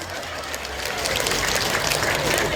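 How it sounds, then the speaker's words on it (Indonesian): An audience at an Islamic lecture on building a harmonious family in the digital age breaks into applause, a dense wash of clapping that swells and holds steady throughout. "tepuk tangan."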